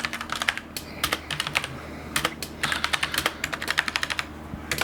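Quick bursts of key clatter from typing on a budget gaming keyboard, close and crisp, with uneven runs of keystrokes and short pauses between them; no voices.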